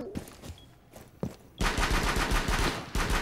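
Pistol shots in Rainbow Six Siege: a few sparse cracks and footsteps, then a sudden run of rapid, loud close shots firing continuously to the end.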